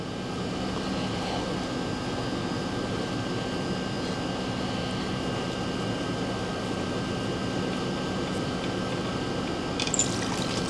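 A steady, continuous rush of coolant with oil on top pouring and draining from a Mercedes 190E M102 engine into a container, even and unbroken, with a faint clatter at the end.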